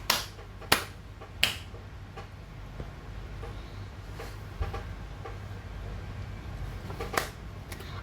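Three crisp hand claps in quick succession open the passage, each a sharp close snap, followed by a low steady hum with a few faint taps and one more soft snap later.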